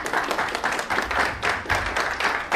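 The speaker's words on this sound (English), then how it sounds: "Let's give them a round of applause." A small gathering at a real estate social hour claps for the hosts; a brief, sparse round of hand claps in uneven bursts, moderately close and without talk.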